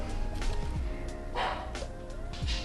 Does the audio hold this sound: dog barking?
yes